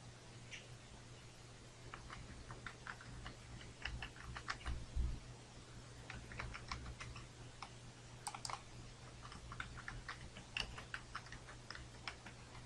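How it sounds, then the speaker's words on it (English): Light, irregular clicks of fingers typing a password on a computer keyboard, fairly close but quiet, with brief bursts of keystrokes spread across the stretch and no talking. "You'll create a password here."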